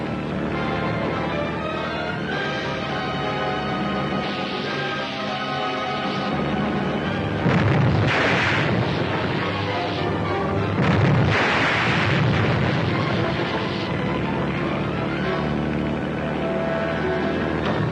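A naval one-pounder gun firing at sea in an old Navy adventure serial: loud, booming blasts and explosions burst out over a constant roar of engines, water and dramatic score.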